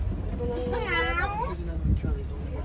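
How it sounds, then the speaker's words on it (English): A cheetah at Disney's Animal Kingdom gives a clear rising-and-falling meow lasting about a second, heard close over outdoor crowd murmur and a low rumble. "the cheetah is also the largest cat that still has the ability to meow"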